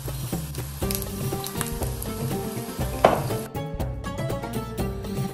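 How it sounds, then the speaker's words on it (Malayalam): Spoonfuls of gram flour batter fry in hot oil for kadhi pakora, giving a steady, close bubbling sizzle under a loud musical backdrop. "കുഴച്ചെടുത്ത കടലമാവ് ഒരു ടീസ്പൂൺ കൊണ്ടെടുത്ത് ചൂടായ എണ്ണയിലേക്ക് പതുക്കെ ഇട്ട് കൊടുക്കുക."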